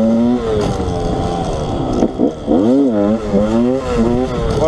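A 1988 Yamaha 125 DTR two-stroke enduro bike, YZ-derived with a rebuilt cylinder and piston, revs close by in rising and falling bursts, its pitch swooping up and down several times.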